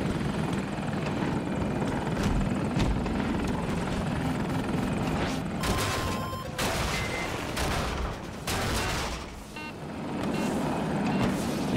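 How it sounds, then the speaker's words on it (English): A helicopter flies close overhead in the video game Battlefield 2042, its steady loud rotor drone continuous throughout, with bursts of gunfire and a few sharp impacts mixed in midway. "We got a chopper, we got a chopper on us,"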